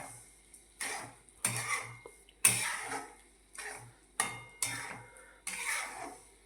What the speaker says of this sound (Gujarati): આ રીતે મોરસ નાખીને બધું હલાવી લેવાનું મિક્સ.